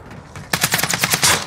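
Rapid automatic gunfire from Call of Duty Warzone, a quiet lead-in then a loud, tightly spaced burst of about ten close shots running through the final second.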